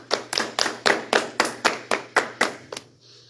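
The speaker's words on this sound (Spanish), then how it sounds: "Un aplauso." A few people clap in slow, evenly spaced unison at a church service, about a dozen loud, close, sharp claps in steady rhythm before stopping.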